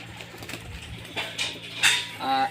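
Madras Jack pigeons coo softly at close range, a few low throaty calls over a faint background murmur, with one brighter call near the end.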